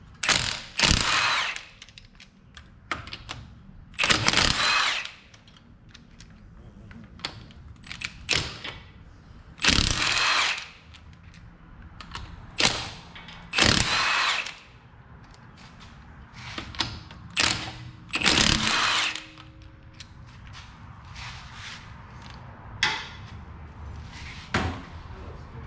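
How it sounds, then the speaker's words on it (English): Lug nuts of 19 mm are removed from the front wheel of a Ford Flex with a power impact tool, giving repeated loud bursts of rattling hammering separated by pauses and clanks, close by in a garage. "let's go ahead and remove the front tires"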